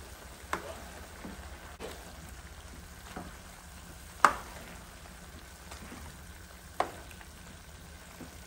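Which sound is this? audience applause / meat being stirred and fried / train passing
meat being stirred and fried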